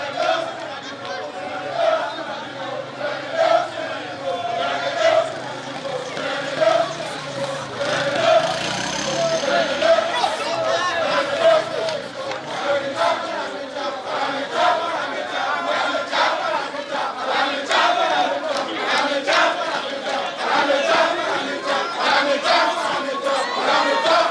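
A large festival crowd at the Ofifofu Festival in an Igarra village square cheers and shouts continuously, a dense roar of many voices with rising yells and chatter throughout.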